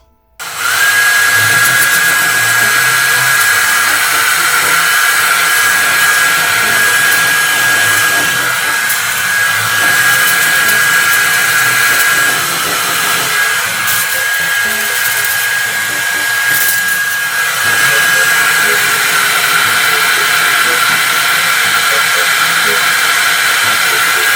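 A hair dryer switches on and blows steadily with a high whine and airy roar, loud and close, running continuously without a break.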